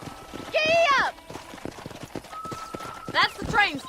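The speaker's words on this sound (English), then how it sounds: "let's see if you can still ride a horse" Rhythmic hoof clops of a galloping horse in Red Dead Redemption run steadily beneath game audio, with a loud whinny near the start and more whinnying near the end.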